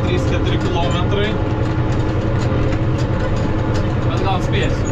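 A tractor engine droning steadily while driving along a road, a constant low rumble that runs throughout, with someone talking over it.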